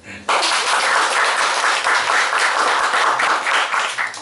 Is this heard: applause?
yes